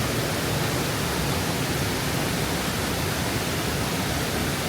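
Flowing river water at a hidden spot in Baco, Oriental Mindoro, makes a constant, loud broadband rush with no breaks and no voices.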